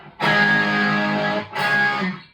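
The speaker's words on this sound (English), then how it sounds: "So now I'm going to stack the tube screamer" Electric guitar played through a Tube Screamer stacked with a Boss OD-2 Turbo overdrive, heard as a loud, saturated distorted chord that sustains for more than a second, then stops briefly and is struck again.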